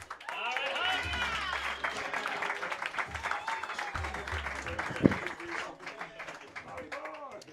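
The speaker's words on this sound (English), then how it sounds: "clap it up for Ian Hunt" Audience applause and cheering for a roast battle contestant from Michigan at a comedy roast event, loud and steady throughout with a host's voice talking over it and one sharp hit near the middle.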